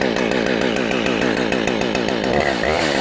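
A Husqvarna 572XP chainsaw, started with the choke and chain brake on, runs close by in a loud, steady buzzing drone that rises slightly in pitch near the end.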